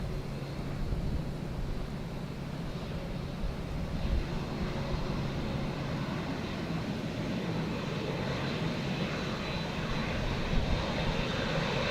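A fixed-wing airliner lands at Dublin Airport in a crosswind, a steady broadband engine roar with low rumble, distant and continuous for the whole stretch with no talk.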